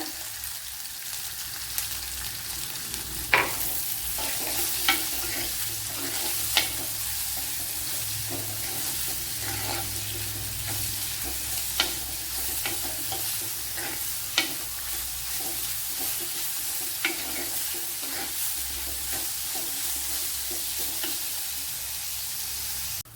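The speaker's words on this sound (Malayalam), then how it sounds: "ഇവിടെ സവാള നല്ലതുപോലെ വഴണ്ട് വന്നിട്ടുണ്ട്." Onions sautéing with salt in a pan while tapioca is being cooked, a soft steady sizzle under repeated scraping and tapping of a spoon against the pan at irregular intervals, with no talk.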